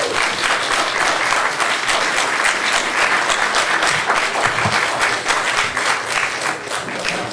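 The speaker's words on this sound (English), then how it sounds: "we will give the candidates a round of applause" A packed room of people at a League of Women Voters general election candidate forum claps steadily, a dense, even round of applause held close and loud from start to finish with no talk over it.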